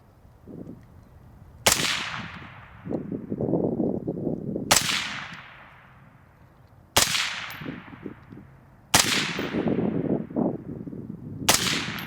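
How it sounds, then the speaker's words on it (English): Rifle fire on a 100-yard range: five sharp, loud shots spaced a few seconds apart, each with a ringing, echoing tail, and faint rustling and clatter between reports. "I'm just going to shoot for the middle for this first one."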